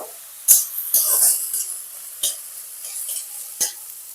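Cabbage, tomato and peas being stirred in a hot pan, a handful of spaced scraping strokes with crisp sizzling bursts, close and clear.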